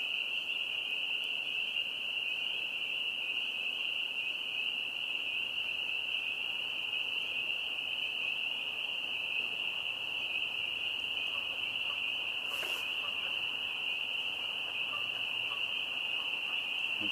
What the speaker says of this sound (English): Lots of noise from those frogs.